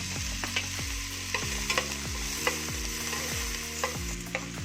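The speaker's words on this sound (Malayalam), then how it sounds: "ഇനി നമുക്ക് ഉള്ളി അരിഞ്ഞതും ഇഞ്ചി അരിഞ്ഞതും ഒന്നിച്ചരിഞ്ഞതാണ്. ഇതങ്ങ് ഇടുക ഇതിലേക്ക്." Chopped onion and ginger fry in a pan with a steady, close sizzle, punctuated by regular scraping stirs every half second or so, with no one talking.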